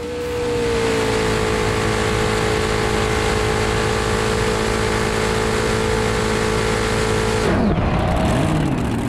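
A 1400hp blown big-block drag boat engine roars steadily at high speed, loud and sustained, before the pitch drops abruptly and wavers near the end.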